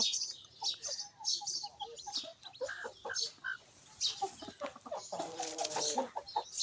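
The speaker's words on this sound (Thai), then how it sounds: "อันนี้ก็ไก่" Chickens cluck and chirp near a rural house in a quiet yard, a scatter of short, soft calls and clucks in uneven bursts that rise into a louder cluster near the end.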